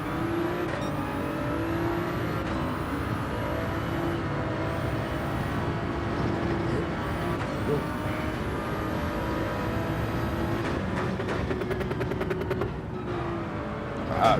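Car engine revving and shifting through gears while racing in Gran Turismo 7, a continuous droning engine note with rising whines and rapid downshift blips, steady and fairly loud throughout.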